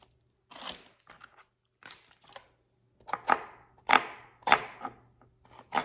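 A kitchen knife cuts into a large onion on a board, giving a string of crisp, close crunching slices, irregular at first and then sharper and more regular.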